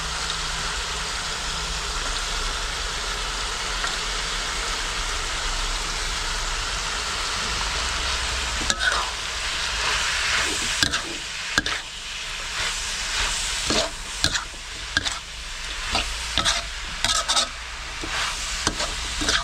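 Wild boar and vegetables stir-fry in a hot pan, a steady sizzling hiss filling the first half before scraping stirs and clatters break in irregularly, close and moderately loud with no talking.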